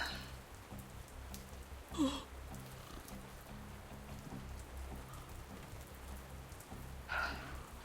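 Torrential rain falls on a rooftop in a role-play game scene, a steady low hiss of heavy downpour with a couple of brief louder gusts around the middle and near the end.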